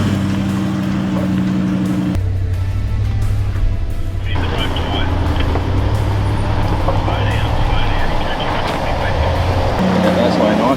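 A car drives slowly while towing another vehicle by strap on an outback road, its engine droning low and steady with a shifting tone, under occasional talk.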